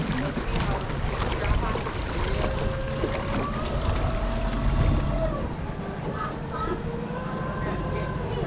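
A glass-bottom tour boat cruises over Silver Springs with a steady low engine rumble and water wash, and a guide talks over it throughout.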